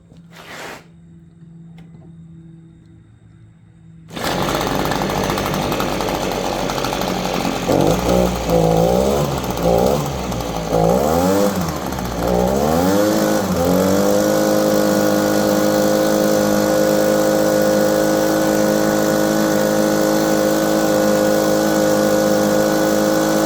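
A customer's two-stroke leaf blower running on 40-to-1 mix after a quiet start, catching with a loud burst, then revving up and down in wavering bursts before settling into a steady, loud, buzzing idle.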